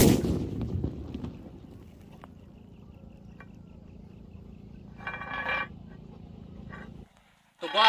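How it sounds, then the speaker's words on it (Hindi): A homemade potash gun fires outdoors: a sharp, loud bang at the start fades into a low rumble, and another abrupt blast cuts in at the very end. "अब रेडी होने वाला है धमाका।"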